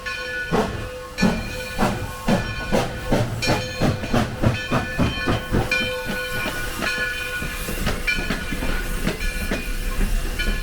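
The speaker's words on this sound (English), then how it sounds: "I've included the runaround of number 60 passing her train in Flemington for the return trip" Steam locomotive number 60 on the Black River Limited runs around its train at Flemington, New Jersey, its wheels knocking out a steady rapid run of clacks over rail joints amid hissing steam, fairly close and loud throughout.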